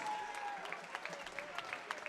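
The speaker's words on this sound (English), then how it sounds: "let's give a big round of applause for our current future basketball crushers" A crowd in a school gym at a boys and girls basketball game claps for the players, faint and distant, with scattered claps and a lingering ring in the hall.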